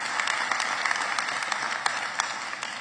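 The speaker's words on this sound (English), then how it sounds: "I think they deserve a round of applause." A large audience claps in sustained, dense applause at a matric results announcement, steady and fairly loud throughout with no pauses.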